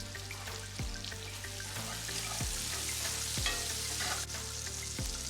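Mushrooms, onions and peas sauté in a pan with a steady sizzle and crackle, broken by occasional sharper pops and the scrape of stirring, with no talking.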